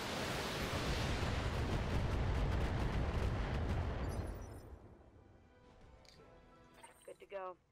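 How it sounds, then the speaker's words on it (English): LRM missile salvo firing in the MechWarrior game, a dense, loud roaring barrage that sustains for about four seconds, then fades as quieter game sounds and voices come through. "Your LRM should be able to fire just fine. That's 30 more missiles."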